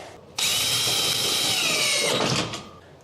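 A power drill drives a screw into a shelf upright in one loud, close whirring burst of about two seconds that winds down, heard alone without talking.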